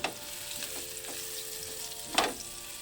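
Bitter gourd (ampalaya) fries with onion in a pan, sizzling steadily and close by, with a few stirring scrapes and one louder crackle near the end.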